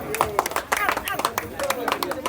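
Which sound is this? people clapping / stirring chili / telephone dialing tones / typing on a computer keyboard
people clapping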